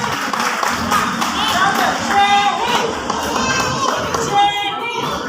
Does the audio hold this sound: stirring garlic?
no